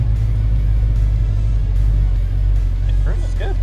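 A 1967 Mercury Cougar S-Code XR7 with a fuel-injected big block V8 runs at idle, a deep, steady low rumble close by, with brief voices over the engine near the end.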